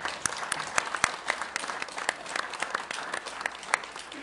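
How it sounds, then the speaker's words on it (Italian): A room full of people at a press conference in Rome applauds for Silvio Faggi, giving sustained clapping with sharp individual claps popping out near the microphone. "chiedo alla sala di fare un applauso per Silvio Faggi"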